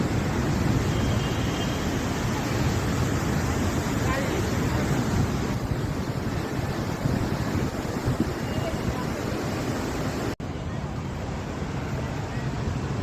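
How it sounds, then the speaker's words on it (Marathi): Godavari river water pours over a dam weir at Panchavati, Nashik, giving a steady, loud broadband rush of falling water that goes on without a break and briefly drops out near the end. "गोदावरी नदीचं पाणी इथे अडवलेलं आहे आणि पाणी धबधब्याचं पाणी खाली येत आहे"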